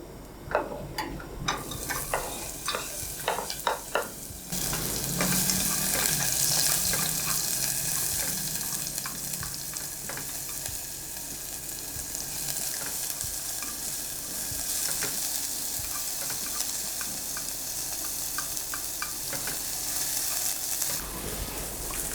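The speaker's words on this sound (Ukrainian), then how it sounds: "Цибулю та часник обсмажую будь-які олії, крім оливкової." Onion and garlic sizzling in hot oil in a pan with occasional stirring, a steady frying hiss after a brief clatter at the start.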